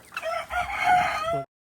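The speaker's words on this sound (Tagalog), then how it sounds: "Yung mga manok." A single rooster crows once, loud and close, a drawn-out call that cuts off abruptly into silence.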